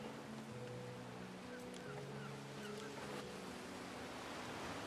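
A ship in the game Anno 117 ploughing through ocean waves, a steady broad wash of surf and wind with a faint low creak and hum underneath.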